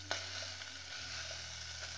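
Cupim beef cut fries in a hot pan, giving a steady, close, continuous sizzle with a faint crackle throughout and no talking.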